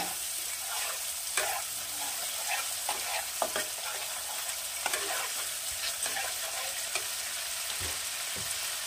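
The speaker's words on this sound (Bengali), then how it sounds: "মশলাটা একটু লো ফ্লেমে কষবে।" A spice masala with a spoonful of beaten sour yogurt sizzles over a low flame for a Bengali winter vegetable curry, with a steady soft crackle and scattered clicks of stirring, close up and with no talk.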